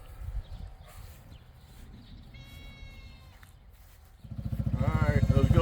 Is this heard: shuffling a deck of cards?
no